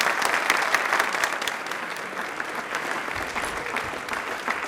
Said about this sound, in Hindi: तालियां एक बार जोरदार हो जाएं।